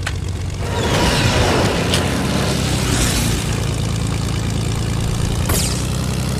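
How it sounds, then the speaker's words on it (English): Steady propeller plane engine drone in the Fortnite video game, a loud continuous low hum with a constant rumble throughout, no voices over it. "There's a plane right here."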